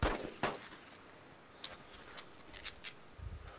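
Gunfire in the DayZ video game, heard as a handful of faint, sharp cracks spread irregularly across a quiet stretch, with a louder shot near the start.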